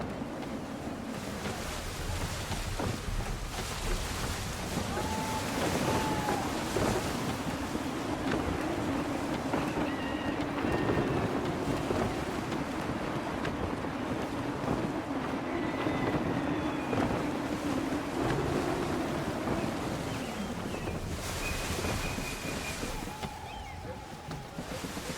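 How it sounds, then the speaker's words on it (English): Gusty wind and surging waves around a sailing ship in Assassin's Creed III, a steady broad roar of wind and sea with creaking and low rumble throughout, while a voice talks intermittently over it. "Gusty winds can be difficult to manage"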